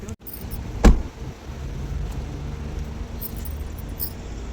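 An idling car engine hums steadily, with a sharp thump like a door closing early on and faint rattles later.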